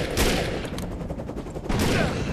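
Gunfire in the video game Defiance: a loud, rapid volley of shots that swells again toward the end, with no talking over it.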